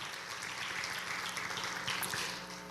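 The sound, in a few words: applause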